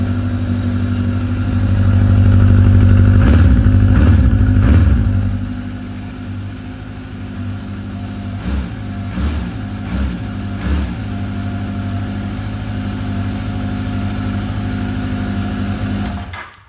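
A 1983 Honda CB1100F DOHC motorcycle engine idles on choke close by, with a few sharp blips of the throttle early on and more short revs later over a steady, rumbling idle.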